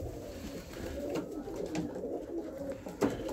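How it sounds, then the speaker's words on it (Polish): Hungry racing pigeons coo in a loft, a continuous low murmuring chorus close by with a few brief wing flutters. "Gołębie troszkę głodne"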